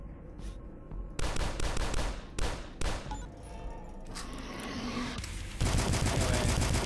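Video game DUSK firearms fire in repeated sharp bursts, near and loud, with short gaps between volleys and a steady rattle toward the end; no talk.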